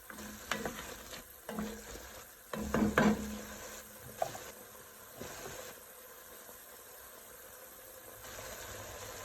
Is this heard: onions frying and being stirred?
yes